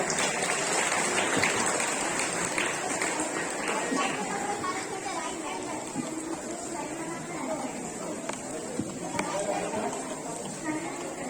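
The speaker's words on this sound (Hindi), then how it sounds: "Huge round of applause for all the participants." Loud sustained applause from a large audience of children and adults at a school Independence Day event, clapping steadily throughout with cheering and chatter mixed in.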